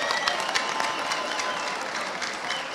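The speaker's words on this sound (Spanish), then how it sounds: "Fíjense ustedes el aplauso del público." A boxing crowd applauds after a bout between Frency Fortunato and Alejandro Gonzalez, a steady roar of clapping from the arena audience with occasional sharper claps standing out.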